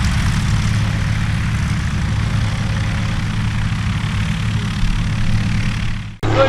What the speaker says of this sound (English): his Great Lakes sport trainer with a Warner radial engine